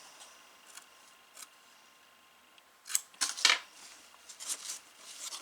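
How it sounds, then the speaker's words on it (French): Scissors snip off excess material that sticks out while a paper storage unit is being built, a few crisp close cuts bunched together after some faint handling noises. "On va couper ce qui dépasse."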